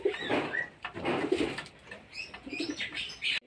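Pigeons at a home loft, several soft throaty coos close by, with chirps and a brief flutter of wings.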